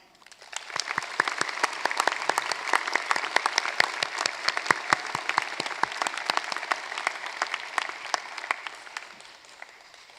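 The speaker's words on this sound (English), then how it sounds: "joining with me in a round of applause for Dr. Cam Charlton" Sustained audience applause at a university graduation ceremony in Cairns, dense clapping from a large crowd that swells in quickly, holds steady for several seconds, then tapers off near the end.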